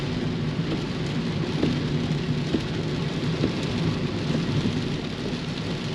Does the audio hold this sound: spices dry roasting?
no